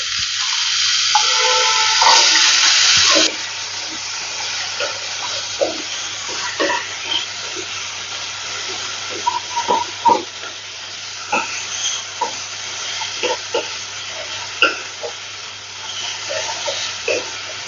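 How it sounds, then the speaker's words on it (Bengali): Cut potato pieces fry in hot oil, opening with a brief louder hiss that settles into quieter sizzling dotted with irregular close pops and crackles, and no speech. "দেখুন তেলটা গরম হয়ে গেছে, এবার আমি আলুটা ভেজে নিচ্ছি"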